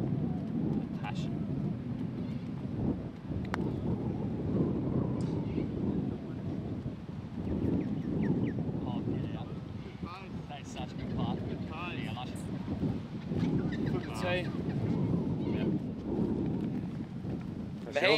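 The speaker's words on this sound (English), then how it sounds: "The wind. Not our friend today." Wind gusts across a golf course, buffeting the microphone in a steady low rumble that swells and fades, with people talking over it.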